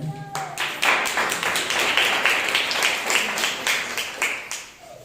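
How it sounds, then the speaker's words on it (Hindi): A church congregation claps loudly during a Sunday morning service, with a dense, steady round of applause lasting several seconds before it tapers off near the end. "परमेश्वर के लिए जोरदार तालियां।"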